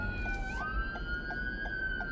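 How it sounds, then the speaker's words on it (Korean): A police car siren wails on a street, a steady pitched tone that slides up partway through and holds, heard at moderate distance over low traffic rumble. "경찰 사이렌 울리면 무조건 서서"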